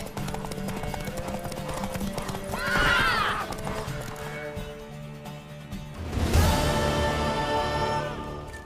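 Horse hooves clip-clop steadily in The Witcher 3, with a loud whinny rising near three seconds and another neigh and crash-like burst around six seconds, set against a busy in-game background.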